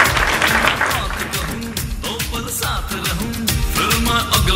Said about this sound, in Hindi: जोरदार तालियां दोस्तों हमारे अचीवर्स के लिए,